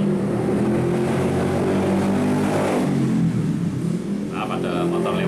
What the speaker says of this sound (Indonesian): Apa ada motor lewat?